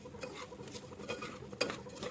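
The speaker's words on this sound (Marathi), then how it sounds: "चावल आणि डाळ आपण चांगली मसाल्यामध्ये मिक्स करून घेऊया." Rice and dal being stirred into masala in a pot, soft close scraping and clinking of a spoon in quick uneven strokes, faint and without talk.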